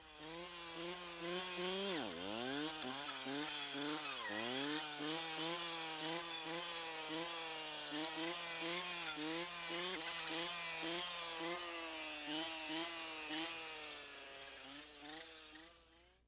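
Brush saw running continuously while felling trees in a pre-commercial thinning block, a steady two-stroke engine whine rising and dipping as the cuts are made, loud and close throughout with no talk.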